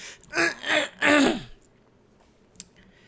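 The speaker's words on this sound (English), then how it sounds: "let me clear my throat for this one" A person clears their throat with three gruff, voiced rasps in quick succession, close up, followed by near silence and a faint click.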